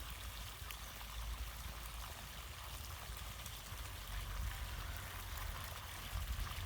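Water from a solar-powered pump pouring out in a steady, rushing flow, a continuous broadband splash with low rumble that stays even throughout, close by and with no talk.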